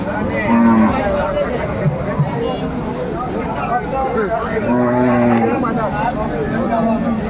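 Cows moo repeatedly at a busy rural cattle market in Dinajpur, where cows are sold with calves, long low calls rising over steady crowd chatter and nearby talk.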